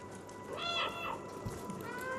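An orange cat in the video game Stray meows twice in a drawn-out, tonal call, clear and close over a faint low background hum.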